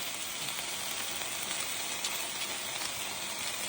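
Slices of meat pan-fry indoors in a rural northeast Chinese home, giving a steady, fairly quiet sizzle that hisses evenly throughout with no talk.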